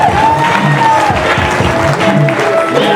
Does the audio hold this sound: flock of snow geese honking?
no